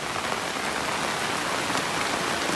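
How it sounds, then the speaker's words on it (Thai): Heavy rain pours down steadily outdoors beside large black tanks of photosynthetic bacteria, a dense, even hiss of drops drumming on surfaces throughout, with no voices. "อยู่ท่ามกลางสายฝนแล้วฝนก็ตกหนักมาก"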